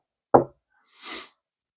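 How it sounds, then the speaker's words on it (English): A single sharp knock lands on a door, followed a moment later by a softer, brief scraping or rustling noise, then silence. "Then a knock."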